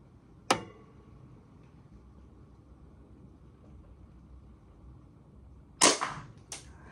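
A cheap BB gun pistol fires two sharp, close shots a few seconds apart, the second followed by a quick smaller crack, against a quiet room background.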